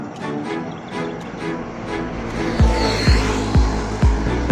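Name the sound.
cars passing on rerouted road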